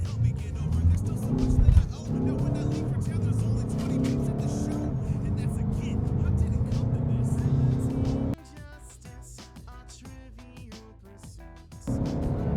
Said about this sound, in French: c'est de faire un 0 à 100 sur cette voiture